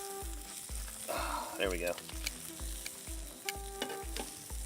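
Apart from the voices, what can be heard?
food sizzling in a frying pan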